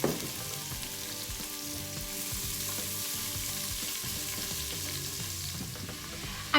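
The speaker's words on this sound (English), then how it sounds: "I'm going to add the onions and let them cook up just a little bit for a couple of minutes" Onions frying in grapeseed oil inside an Instant Pot, a continuous even sizzle and crackle heard up close and alone, with a brief knock right at the end.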